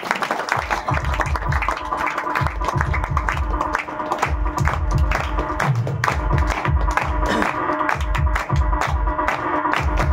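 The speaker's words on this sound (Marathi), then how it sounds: "जोरदार टाळ्या झाल्या पाहिजे धनावडे साहेबांसाठी" An audience at a school student awards ceremony claps loudly and continuously to honour a guest, a dense, sustained patter of many hands with occasional voices mixed in.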